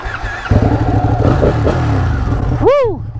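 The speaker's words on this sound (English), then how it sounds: "best sounding bike in this parking lot" A Ducati Panigale motorcycle engine revs loudly and close in a parking lot, a rough mid-pitched roar that swells and then sweeps up and back down in one sharp blip near the end.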